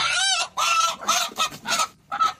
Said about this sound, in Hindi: ये मुर्गियों को हम पकड़ते नहीं है